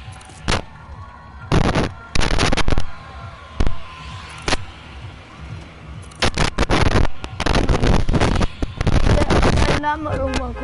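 Rocket launcher blasts in a console shooter, several loud sharp explosions arriving in irregular bursts, some clustered back to back, with quieter gaps and a voice talking in between.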